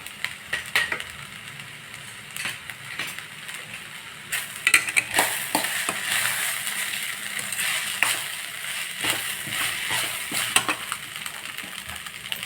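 Cowpea rice being stirred in a pot after salt goes in, with intermittent scraping and clinks of a spoon against the pot over a soft low sizzle, no voices.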